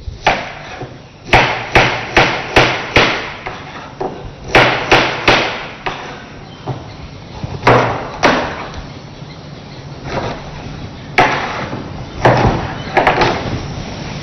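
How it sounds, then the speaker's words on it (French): Knife chopping vegetables such as a bell pepper on a cutting board: bursts of quick, sharp knocks in uneven clusters with short pauses, close and crisp, no talk over them. "Je récupère d'abord ma planche, puis mon couteau. Je ramène maintenant les produits vers moi, que je vais découper."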